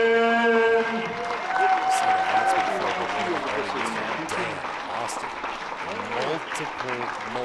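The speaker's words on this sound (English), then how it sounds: "everybody, including our lifters in the back, please give a round of applause for Dan, the man, Austin!" A crowd at a powerlifting national championship applauds a strength coach, steady clapping and a little cheering that continues under an announcer's amplified voice.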